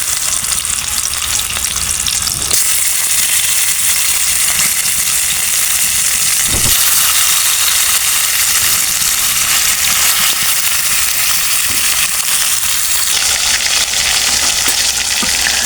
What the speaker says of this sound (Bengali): তেল দিয়ে দিব, এর মধ্যে মাছ দিয়ে দেব।